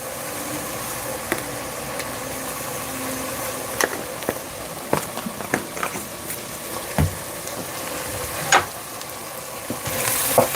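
Garlic sizzling in a pan with Italian seasoning: a steady, moderate frying hiss with scattered pops and scraping stirs across the whole stretch, and no talking.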